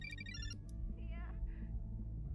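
A phone rings with short bright electronic tones at the start, followed by warbling chirps, over a steady background hum with some voices.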